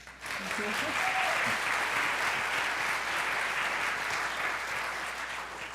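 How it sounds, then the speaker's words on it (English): An audience at a theater's 30th-season celebration claps in a steady, dense round of applause for volunteer storytellers, holding loud and even for about five seconds before easing slightly. "That deserves a round of applause."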